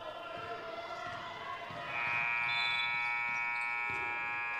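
An end-of-quarter buzzer at a girls' high school basketball game at John R. Nelson gym sounds as a loud, sustained electronic tone over gym crowd noise, holding steady for a few seconds.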